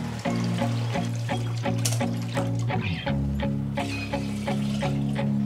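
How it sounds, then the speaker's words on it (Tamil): Dissolved tamarind water pours into a cooking pan for a South Indian kuzhambu, a continuous liquid splashing and trickling close by, backed by steady soft background music. "கரைச்சி வச்ச புளித்தண்ணியை ஊற்றிக்கலாம்"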